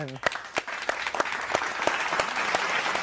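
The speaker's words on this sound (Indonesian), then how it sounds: "Tepuk tangan." An audience gives applause for a guest being introduced at a biker brotherhood gathering. A voice is briefly heard at the start, then scattered sharp claps build into a steady, close round of clapping.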